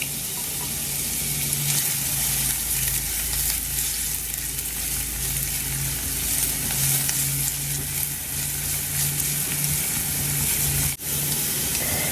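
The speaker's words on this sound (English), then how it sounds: "We are going to add our onion and cook until they're fragrant and translucent" Onions frying in a pot for a ramen noodle breakfast, a steady bright sizzle heard close up that carries on without a break, with a faint hum underneath and no one talking.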